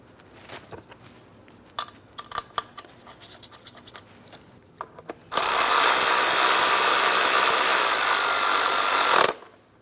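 A power tool tightens a 10mm bracket bolt on a 3.6L V6 engine in a 2003-2007 Cadillac CTS, preceded by scattered light clinks and taps, then a loud steady whirring buzz for about four seconds.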